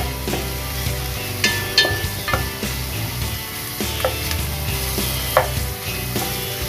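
Pork sautéing in a hot pan gives a steady, close sizzle, with occasional scraping stirs and light clinks over a constant frying hiss, no talking.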